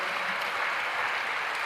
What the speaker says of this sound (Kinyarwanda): Imana tuyongera amashyi menshi cyane